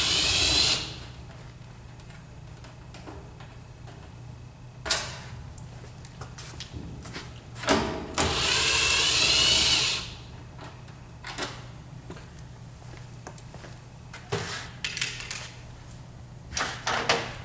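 Metallic clicks and rattling from a Phillips screwdriver taking the panel screws off a Whirlpool washer come in short, scattered bursts, with a longer grinding stretch in the middle and quiet pauses between.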